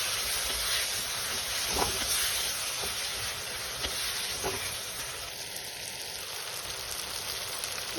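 Brinjal pieces frying in hot oil in a pan for a dry fish curry, a steady, even sizzle and hiss that carries on throughout with a few faint clicks.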